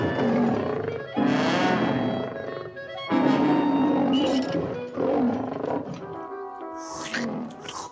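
Cartoon tigers roar repeatedly in a classic animated short, several loud, rough bursts in succession with brief gaps, backed by orchestral music.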